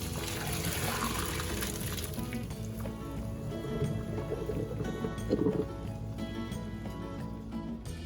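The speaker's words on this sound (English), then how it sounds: "Drain the pasta in a colander." Pasta water poured from a pot through a colander in a home kitchen, a steady, loud rush of draining liquid splashing into a sink, continuous throughout with clattering undertones.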